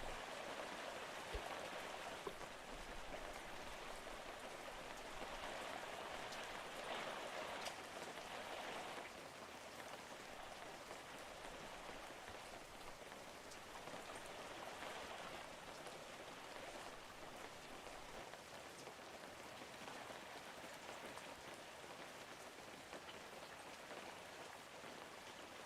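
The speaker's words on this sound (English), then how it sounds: "It's still raining over here?" Rain falls in the online fishing game Webfishing as a soft, even hiss that carries on without a break, faint and free of voices.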